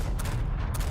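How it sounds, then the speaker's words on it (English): A big explosion in the Resident Evil 4 Remake video game ending: a dense, loud, sustained blast rumble filling the whole moment, with heavy low-end roar and two brighter bursts standing out. "Big explosion."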